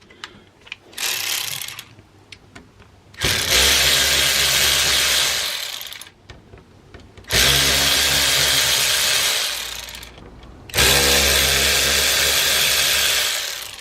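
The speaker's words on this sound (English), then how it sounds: "So to do so, you need to remove the 3 T15 screws." A power driver backs out T15 screws from a BMW motor mechanism in three long, loud whirring bursts, separated by brief pauses filled with small clicks and handling noise.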